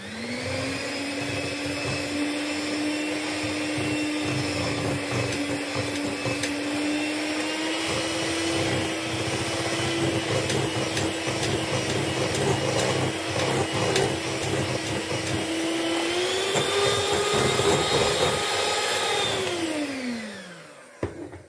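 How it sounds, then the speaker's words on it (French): An electric hand mixer whirs steadily for about twenty seconds while beating cake batter, a loud constant motor drone that rises slightly in pitch near the end before winding down and stopping. "je continue à mélanger avec le batteur"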